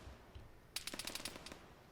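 Rapid machine-gun fire in the military simulator game Arma 3, heard as a quick burst of about ten sharp shots, fairly faint and slightly distant, with no talking over it.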